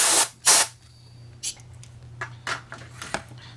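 Short bursts of compressed air blow putty dust off a model hull, two strong close hisses followed by several weaker, shorter puffs, against a low steady hum.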